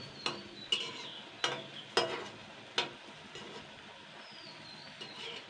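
Soft oil sizzle from radish fritters frying runs underneath while a spoon scrapes and taps the pan about five times in a loose rhythm, close by.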